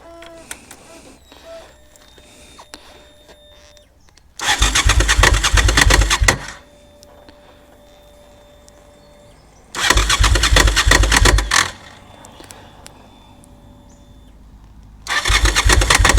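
A Suzuki TL1000R motorcycle engine cranks and fires in three separate bursts of loud, rumbling running, each lasting about two seconds, separated by quiet stretches with a faint steady electronic hum.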